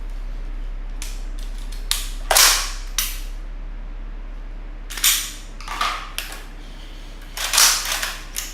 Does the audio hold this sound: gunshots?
yes